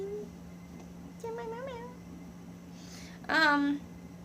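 A cat meows a few times nearby, short wavering cries followed by a louder, drawn-out meow over a low steady hum.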